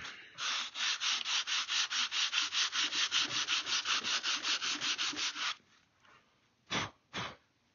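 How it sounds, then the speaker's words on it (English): A large sanding block is rubbed back and forth over cured epoxy on a swivel breech rifle kit, a fast, steady run of close, even strokes for about five seconds, followed by two separate short scrapes. "sand it over the top"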